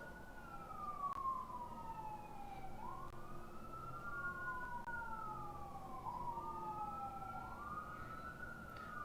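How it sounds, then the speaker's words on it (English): Far off, an ambulance siren wails in slow rising and falling sweeps, faint and distant over steady low traffic rumble, repeating through the whole stretch with no talk. "There's literally always an ambulance over here."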